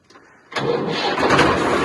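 A tractor engine cranks and catches during a wheat harvest near the Indo-Pak border, jumping from near silence to a loud, steady idle that holds close by.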